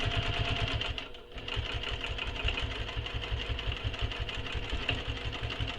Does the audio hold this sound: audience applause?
no